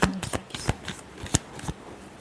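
Tarot cards being shuffled by hand, a series of crisp riffling bursts and soft slaps in an uneven rhythm, close and clear with no voices.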